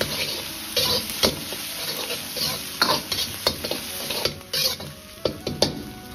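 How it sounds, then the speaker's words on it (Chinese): Stir-frying in a wok with a splash of cooking wine and spicy chili sauce: a spatula scrapes and tosses in repeated bursts over a steady sizzle, close and fairly loud, with no talking. "稍微翻炒几下，再放入少许的香辣酱，炒出颜色和香味"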